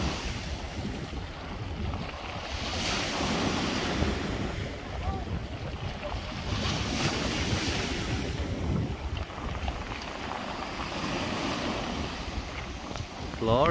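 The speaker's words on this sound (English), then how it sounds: "some big waves coming over there, James." Big ocean waves break and wash along a beach, a continuous roaring surf with surges of louder crashes, heavy wind buffeting the microphone close by.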